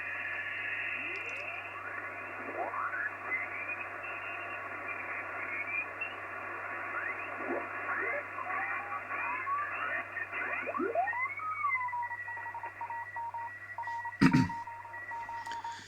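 Steady hiss of radio band noise on the 80-meter band near 3.5 MHz fills the clip, with warbling tones sweeping up and down through it and a brief sharp click near the end.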